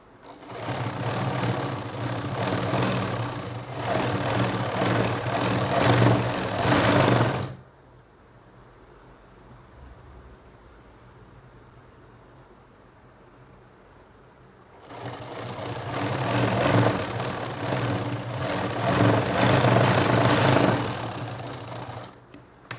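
A sewing machine stitches a nightdress in two loud, steady runs of about seven seconds each, with a quiet pause between them and no talking.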